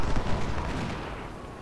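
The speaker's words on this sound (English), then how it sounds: "Osborne's men are getting hit by artillery." Artillery fire strikes troops in the Civil War strategy game Ultimate General: Civil War, a dense rumbling of distant cannon blasts that fades over a short moment.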